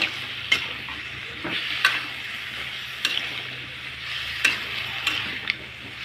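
Cauliflower and potatoes being stirred through spices in hot oil, a steady soft sizzle broken by several sharp utensil scrapes against the pan, close up with no talking.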